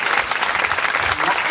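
A crowd claps heartily at a pilgrimage walk gathering. The steady, dense applause is close and lasts only a moment.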